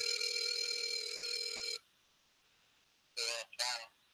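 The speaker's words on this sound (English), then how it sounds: "All right, this one is ringing." An outgoing telephone call rings in the earpiece: a bright, loud ring burst lasting under two seconds, a short silent gap, then a second ring beginning in two quick pulses, with no talking.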